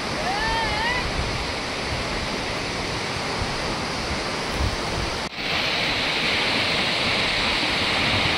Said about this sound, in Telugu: zag falls